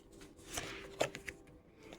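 Tarot cards are shuffled in a quiet room, giving a few soft, brief riffling and tapping bursts, faint and close, with no talking.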